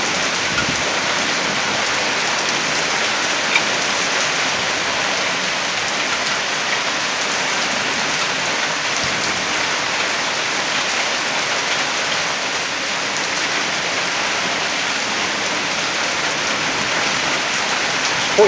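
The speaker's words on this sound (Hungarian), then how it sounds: "Folyamatosan dörög." Heavy supercell rain pours steadily and loudly throughout, a dense unbroken wash with a faint low rumble of thunder buried beneath it.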